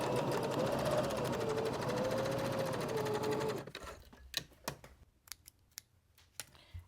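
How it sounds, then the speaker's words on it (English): Sewing machine running steadily while chain piecing fabric units for a Christmas tree ornament, a loud continuous whir for about three and a half seconds, then scattered clicks and handling taps. "I'm going to chain piece my next unit. So I'm going to just go off the edge of the first one, lift my presser foot slightly"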